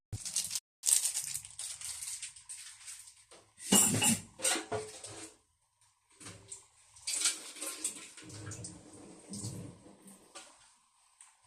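Metal pot and lid clatter while cooking catfish adobo, with scraping, knocking and clanking in irregular bursts separated by short pauses, close and moderately loud.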